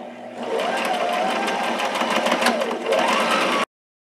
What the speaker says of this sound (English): I'm going to be using a zigzag stitch at the 2 and the 2.